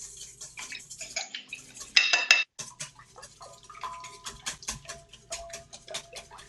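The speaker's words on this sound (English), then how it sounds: "So I'm going to whisk my eggs in now." Eggs being whisked by hand in a bowl for a pina colada rum cake batter, a run of quick light clinks and taps of the whisk against the bowl, close and fairly quiet, with one brief louder scrape partway through.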